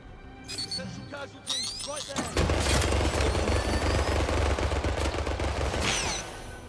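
Machine gun fire in the video game 007 First Light, a sustained dense burst of rapid automatic shots after a short quieter lead-in, loud and close over game effects.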